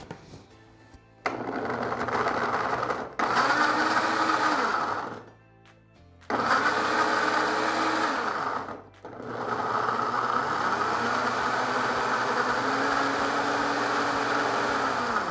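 A kitchen blender whirs loudly through carrot cake batter with chopped carrot, running in three long bursts separated by short pauses, the motor pitch shifting slightly as the mixture churns.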